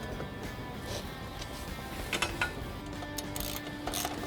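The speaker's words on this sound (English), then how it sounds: "So using your 18mm ratchet and wrench, tighten back up this front pivot." An 18mm ratchet and wrench tighten the front trailing arm pivot bolt on a Polaris RZR XP1000, giving soft, close clicking and mechanical ratcheting at low volume with no talk.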